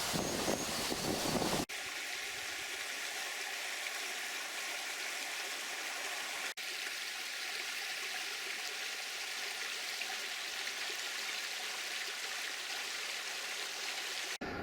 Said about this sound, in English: the sound of the waterfall by the side of us